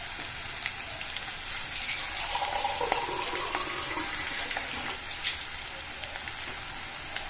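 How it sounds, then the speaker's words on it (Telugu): Water poured into a hot pan while making upma hisses and patters steadily for several seconds like rain on a surface, with a brief swell in the middle, heard without talk. "ఇప్పుడు వాటర్ పోసుకోవాలండి."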